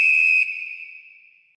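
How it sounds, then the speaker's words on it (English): A single sharp, loud whistle blast at the start of a Dallas sports intermission, ringing out briefly and then trailing off as it fades. "We'll talk about it after the whistle."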